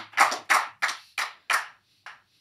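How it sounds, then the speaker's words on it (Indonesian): A handful of separate claps ring out for a guest on an Indonesian talk show, six distinct sharp strikes in slow, uneven rhythm that sound close and thin, like a few people rather than a full crowd. "Tepuk tangan buat beliau."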